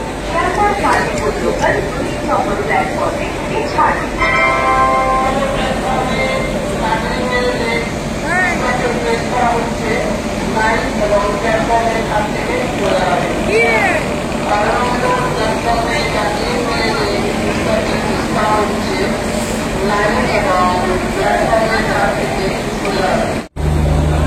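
The Darjeeling Mail, train 12343 on the Sealdah to NJP run, rolls into the station platform with a continuous loud rumble and clatter of carriages, while voices talk over it nearly the whole time.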